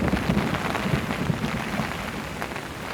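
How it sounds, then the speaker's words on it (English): Heavy rain pounds a tent during a night in the desert Empty Quarter, a loud, dense patter with irregular thumps and gusts of wind, continuous throughout with no voices. "So much rain"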